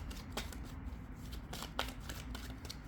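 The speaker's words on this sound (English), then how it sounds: "Okay, we'll cut the deck." A deck of tarot cards is shuffled by hand, close and soft, with a run of quick riffling flicks and light slaps as the cards are worked and cut.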